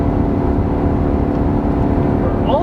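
A 2018 Chevrolet Silverado gas engine works at high RPM climbing a long grade, giving a loud, steady droning roar with no pauses.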